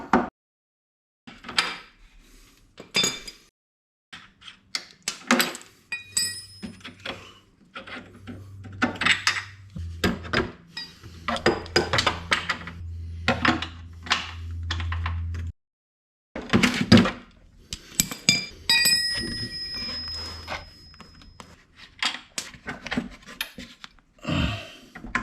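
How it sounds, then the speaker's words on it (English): 14mm nuts and bolts come off the A-arm of a Kawasaki Brute Force 750 ATV with a box wrench and ratchet, giving irregular metallic clicks, clanks and scraping up close, with a few short pauses. "we're gonna be using our box wrench on the back side again and a ratchet on the front"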